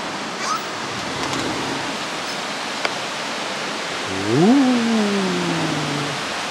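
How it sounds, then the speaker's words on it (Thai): A small waterfall in the countryside outside Tokyo makes a steady, even rush of water throughout, with a brief rising-then-falling tonal sweep near the end and no clear talking. "น้ำตกเล็กๆอยู่ข้างหน้าเลย"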